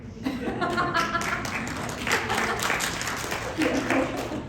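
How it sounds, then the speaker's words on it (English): Steady applause from a crowd, continuous clapping with a few chuckles mixed in, fairly close and even in volume throughout. "I like applause"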